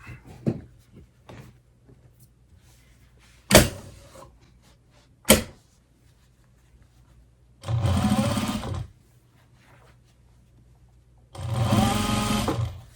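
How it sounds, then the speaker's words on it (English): Sewing machine top stitching around the edge of a wool cloche hat, two steady whirring bursts of about a second each, separated by quiet pauses with a couple of sharp clicks. "I'm going to top stitch right along this edge all the way around the hat"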